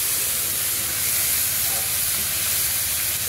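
Ground spice paste of cumin and green chilli hitting hot oil that was tempered with cumin and bay leaves in a village kitchen, a steady loud hiss of sizzling close by with no pause.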